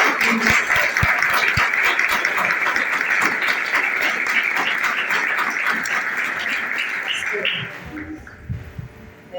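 A congregation at a church service claps in sustained, dense applause that holds steady, then thins out and fades near the end as a few scattered sounds remain.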